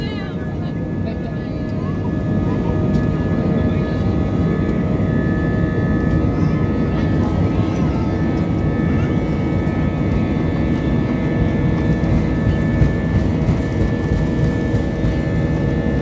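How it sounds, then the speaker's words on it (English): Loud, constant roar of airliner jet engines during takeoff heard from inside the cabin, a deep rumble with a thin whine running throughout. "We are taking off"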